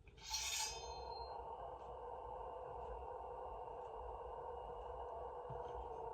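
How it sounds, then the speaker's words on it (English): A red Xenopixel lightsaber of the Obi-Wan Kenobi style hums at idle: a brief bright ignition swish, then a steady, low, eerie drone with faint periodic ticks, quiet and continuous with no talking. "Now this one has the creepy hum."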